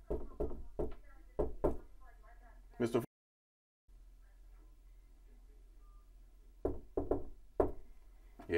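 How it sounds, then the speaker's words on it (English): Knuckles rap on a rental unit's door: a quick run of sharp knocks, then a pause and silence, then another run of knocks, close and fairly loud. "I'm gonna knock on the door and see what happens."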